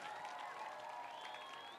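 Faint crowd clapping at a Day of the African Child celebration in Makueni County welcomes the First Lady, with a steady wash of applause and thin high cheering tones for under two seconds.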